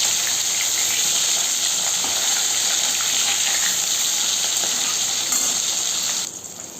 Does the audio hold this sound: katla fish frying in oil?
yes